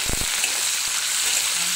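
Onion and capsicum sizzle loudly in a hot pan for chilli chicken, a steady broadband frying hiss with a few quick stirring knocks near the start.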